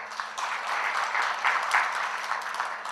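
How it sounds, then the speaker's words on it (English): An audience at a session applauds with brisk, continuous clapping that swells slightly toward the middle, with a few sharper claps standing out, heard alone without speech. "Please thank them with loud applause."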